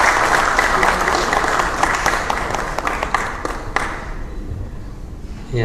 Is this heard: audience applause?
yes